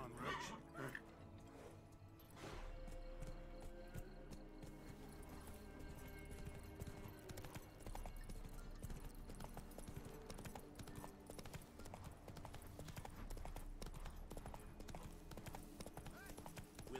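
Roach, the horse from The Witcher 3, clip-clops steadily at close range in the video game, with voices speaking over the hooves.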